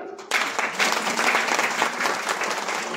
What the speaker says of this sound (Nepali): पहिलो धन्यवाद तपाईँहरूको लागि जोरदार ताली